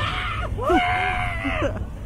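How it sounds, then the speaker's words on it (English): Riders scream on the Vapor Trail roller coaster at Sesame Place, heard from the back row: overlapping, sustained high-pitched screams swelling over steady ride rumble and wind. "Let's scream."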